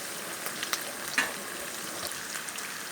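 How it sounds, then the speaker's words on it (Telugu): Semolina and other ingredients fry in hot oil while being made into a coriander chutney, a soft steady sizzle with a few faint clicks and stirring taps and no voices. "ఇలా వేయించుకోవాలి బాగా రెడ్ కలర్, రవ్వ లైట్ రెడ్ కలర్ వచ్చేంత వరకు బాగా వేయించుకోవాలి."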